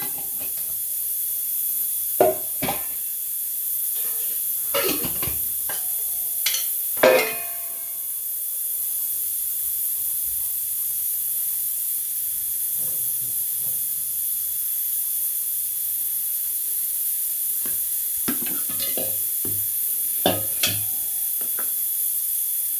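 A spoon stirs fish gravy masala in a pan, sending a few scattered scrapes and clinks over a constant close hiss of cooking, with long quieter stretches in between.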